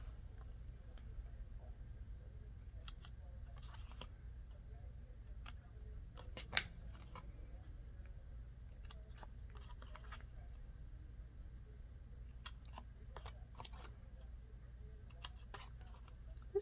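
Scissors snip around a paper puzzle-piece journal card in a quiet room, with scattered short crisp cuts coming in small irregular clusters over a faint steady background hum.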